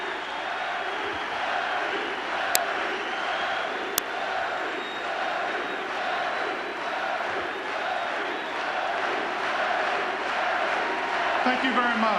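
A sellout Boston Garden crowd cheers Larry Bird, a dense, sustained roar of many voices held steady throughout, with a couple of sharp pops and a faint rise near the end.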